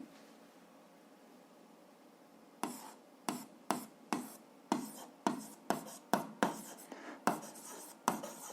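A pen writes coordinates of an intersection point on paper in a quiet room, a run of short quick scratchy strokes with little pauses between them, close and fairly faint.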